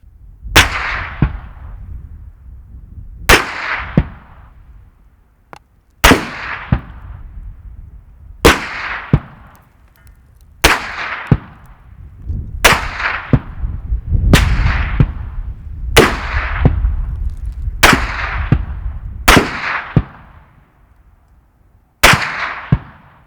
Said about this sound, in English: we're actually going to shoot at you so you can hear the lovely sound of a suppressed Barrett and bullets